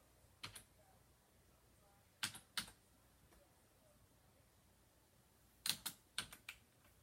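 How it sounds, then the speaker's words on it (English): Keystrokes on a computer keyboard come in short separate bursts of a few quick clicks each, close and fairly crisp against a quiet background, with long pauses between the clusters. "So I am going to type in"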